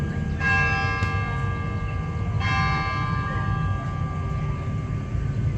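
Manila Cathedral's church bell ringing at noon, two clear tolls about two seconds apart with long humming decay over a steady low rumble of city or traffic noise.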